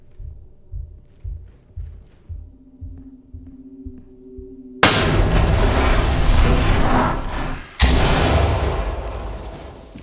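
Flashbang grenade going off in the tactical shooter Ready Or Not: after soft rhythmic thumps, a sudden loud bang with a ringing wash, then a second sharp burst that slowly decays.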